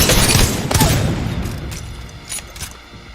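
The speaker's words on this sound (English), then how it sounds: "So whenever you have the turbocharger, the Havoc will never have that split second. You'll just shoot as if it's full auto" Rapid full-auto gunfire from the Havoc rifle fitted with a turbocharger in a video game, loud and sustained at first, then easing into a thinner rattle of shots with a few sharp bursts near the end.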